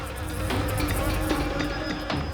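Bees swarming around a hive inside a house in a TV crime drama: a dense, continuous buzzing drone, loud and close, with brief louder passes as insects fly near.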